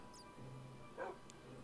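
A dog whimpers and yips softly in a survival video game set in a sand cave. There are a few short high cries and one brief louder whine over a low game ambience.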